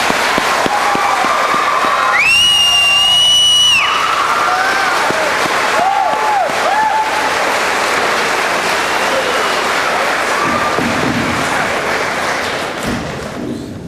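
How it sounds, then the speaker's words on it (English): An audience at a high school class night applauds the standing senior class, a broad wash of clapping from a crowd in a hall, loud at first and gradually tapering, with a brief electronic tone and scattered voices mixed in. "Let's give them a round, warm applause."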